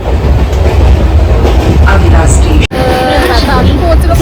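Mumbai local train in motion, a loud steady rumble of wheels and carriage noise with faint clatter, briefly cut by a short gap before the ride noise resumes.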